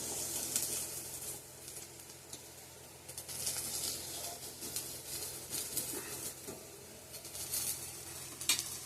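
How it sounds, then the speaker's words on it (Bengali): Sweet pumpkin pieces frying in a pan, a steady soft sizzle with occasional stirring scrapes and light clatter, close up and moderately quiet throughout. "মিষ্টি কুমড়া ভাজা করে নেব এখন"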